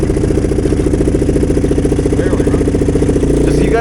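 Engine of a three-wheeler golf cart after a motor swap, idling and revving with a loud, close, pulsing chug that dips briefly near the end.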